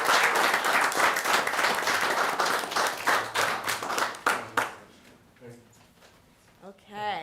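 School board meeting attendees clap loudly for student award winners, a full round of applause that thins out into scattered claps and fades, followed by brief talking.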